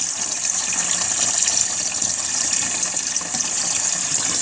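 Water gushes steadily into the tub of a new 2019 Zeny washing machine, a loud, continuous hissing rush with no pauses and no talk.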